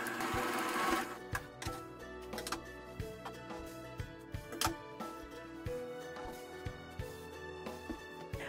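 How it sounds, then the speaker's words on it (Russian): A sewing machine runs a decorative stitch through old sweater fabric, pressing a seam allowance onto the lining. Close, rhythmic mechanical whirring comes in repeated short bursts with brief pauses between runs. "Отгибаю все влево и настрачиваю декоративной строчкой припуск на шов на подклад."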